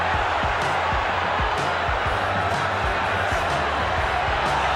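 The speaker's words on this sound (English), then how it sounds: "Crowd is roaring." A boxing-match crowd roars in a dense, loud, unbroken wall of noise, with low rhythmic thuds pulsing beneath it throughout.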